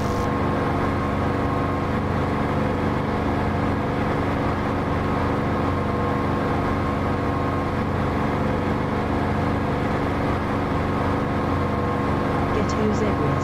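Steady jet engine roar from a combat aircraft in the DCS flight simulator game, a dense continuous drone with strong tonal hum that fills the whole stretch at constant loudness and never lets up.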